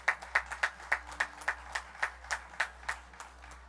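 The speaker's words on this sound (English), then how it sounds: "just give the Honorable Prime Minister a round of applause" Faint, thin clapping from an audience at the official opening of a youth and sports facility in Moruga, a steady patter of about a dozen distinct claps heard from a distance.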